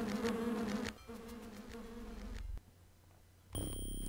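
Bees in the video game Land of Lore buzz loudly in steady, droning stretches that stop and start, with a brief break and a harsh, bright game sound at the end.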